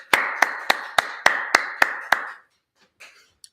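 Eight sharp hand claps ring out in an even, steady rhythm in a reverberant room during a history class gathering, then fall silent, with faint noises after.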